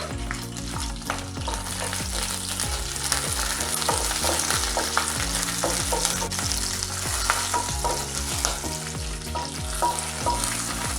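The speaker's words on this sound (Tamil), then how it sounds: "நம்ம எடுத்து வச்சுருக்க பச்சை மிளகாயும் காஞ்ச மிளகாயும் போட்டுக்கலாம்." Green and dried red chillies fry in hot oil in a kadai, giving a dense, loud sizzle and spitting. A repeating tonal music bed plays underneath throughout.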